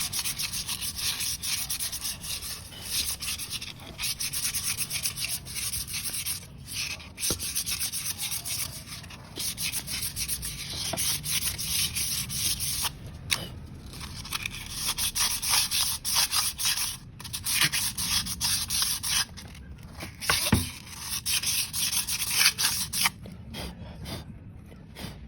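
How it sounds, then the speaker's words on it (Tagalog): A Yamaha Mio Gear scooter's brake shoe is sanded by hand to roughen its smooth surface, giving a steady, close scratchy rubbing that runs continuously with brief pauses and strokes, no talking. "tapos liliyahin din natin yan para matanggal yung smooth nya"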